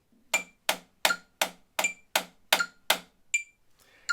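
A drumstick played with the non-dominant hand in a sticking exercise: nine even, sharp strokes at a steady tempo, close and clear, followed by a faint softer tap at the end.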